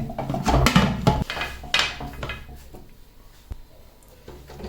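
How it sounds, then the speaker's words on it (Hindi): Metallic clanks and a solid thud as a pressure cooker lid is pressed and locked shut, a few sharp knocks followed by quieter handling. "हम इसे प्रेशर कुकर को अच्छी तरह बंद कर देंगे।"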